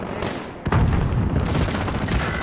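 C4 explosive detonating in a shooter game: a sudden heavy boom partway through, followed by a loud rumbling roar that carries on to the end over background battle noise.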